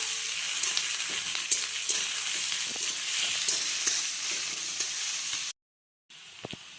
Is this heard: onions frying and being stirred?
yes